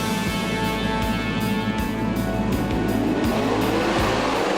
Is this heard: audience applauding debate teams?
no